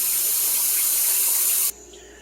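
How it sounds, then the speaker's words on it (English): Tap water sprays and splashes steadily as a frosting spatula used on a German chocolate cake is rinsed in a sink, fairly loud and close, then cuts off abruptly near the end, leaving quiet. "I'm going to go ahead and just rinse the spatula off."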